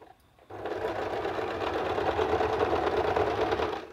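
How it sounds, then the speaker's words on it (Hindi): A sewing machine runs steadily for a few seconds, stitching a double row of seams on a top, a close, even mechanical whir with rapid needle clatter and no voices. "तो देखिए हम आपको एक स्टिच डाल कर बताते हैं कि इस तरह से हम इस पर डबल में स्टिच डालेंगे"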